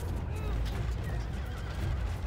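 Horses in the Rome: Total War battle whinny and neigh over rumbling hoofbeats and massed battlefield noise, with horse archers nearby and a player talking over the din.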